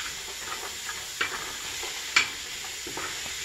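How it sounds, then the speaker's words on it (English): Carrot stir-fried in a pan for Chinese noodles, a continuous close sizzle broken by two sharp spatula scrapes against the pan. "And fry it a little bit."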